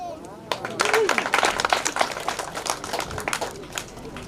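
An audience applauds children after their poem recital at an early-childhood education event, a steady patter of many hands clapping, fairly close, with some voices mixed in.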